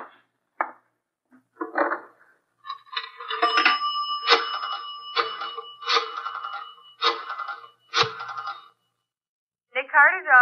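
Telephone sound effect in a 1946 Nick Carter radio detective drama: a run of ringing bursts and rapid mechanical clatters in irregular rhythm, fairly close and bright, with a voice entering at the end.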